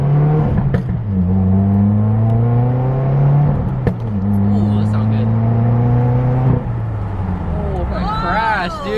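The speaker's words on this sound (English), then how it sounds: "It does have a little bit of backfire and pops too." A supercharged Scion FR-S exhaust revs repeatedly and shifts through gears from inside the car, with sharp crackling pops and backfire between pulls. A voice speaks briefly near the end.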